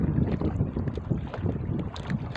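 Steady wind buffeting the microphone outdoors, a continuous low rumbling roar with no talking.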